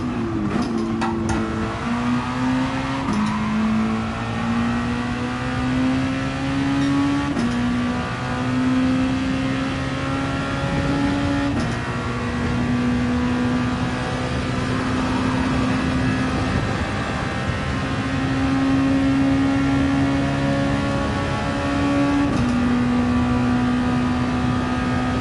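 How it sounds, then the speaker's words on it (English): Racing car engines in GT Sport at the Dragon Tail circuit, a close engine droning and climbing through repeated gear shifts amid a pack of other cars, loud and continuous with no talk. "A lot of cars in front of my vehicle."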